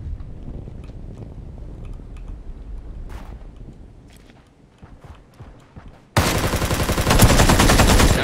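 In the Ring of Elysium video game, scattered distant gunshots and rustling movement come first. A sudden burst of loud, rapid automatic fire then takes over the final two seconds.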